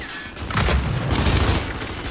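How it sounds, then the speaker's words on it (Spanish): A fragmentation grenade goes off in the Gears 5 campaign, a loud, booming blast that sets off a dense, rumbling roar lasting about two seconds. "¡Lanzando granada de fragmentación!"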